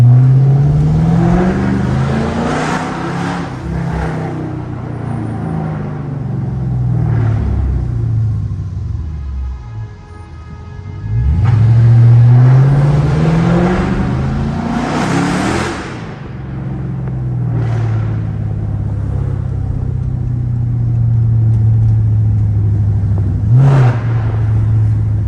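A 420 hp R/T car driving late at night through downtown Chicago, its engine a loud, close rumble that rises and falls through repeated revs and gear shifts, with no talking.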